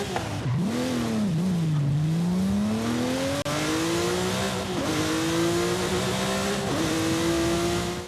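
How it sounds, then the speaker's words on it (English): Gunther Werks Porsche 911 in Forza Horizon 5 revving hard through rising gear pulls, with a loud, steady engine note climbing in pitch and dipping at each shift, heard alone for several seconds. "let's go ahead and take a listen to how this thing sounds"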